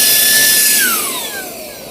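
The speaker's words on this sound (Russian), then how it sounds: "Такой хороший пылесос у нас" A household vacuum cleaner running loud and close, with a high whine whose pitch sweeps downward as the motor winds down and the sound fades.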